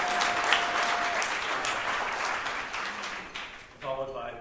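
Audience at a Marshall Scholarship event claps in a sustained, fairly loud round of applause that gradually fades, with a voice resuming speech at the very end.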